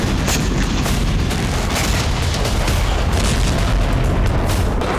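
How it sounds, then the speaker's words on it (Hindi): Heavy explosions from Russian strikes on Ukraine boom and rumble continuously, a loud dense barrage of blasts with sharp cracks layered over a deep low roar. "रूस में हुए एक एक धमाकों के बदले कई धमाके"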